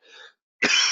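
A man coughing, a short soft exhale followed after a brief pause by one loud, harsh, close cough.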